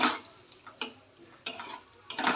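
Jackfruit curry stirred in a pan. Four or five distinct scraping strokes of a spoon against the pan are separated by quiet gaps, close and fairly soft, with a faint wet texture.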